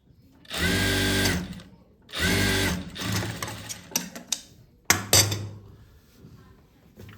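A sewing machine stitches a pocket onto a cloth belt in two sustained loud runs, each about one and a half seconds, followed by shorter stop-start bursts, clicks and handling knocks as the fabric is turned.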